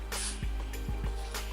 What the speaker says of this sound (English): I'm going to spray just a little bit on my hand here.